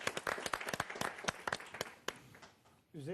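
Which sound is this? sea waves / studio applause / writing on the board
studio applause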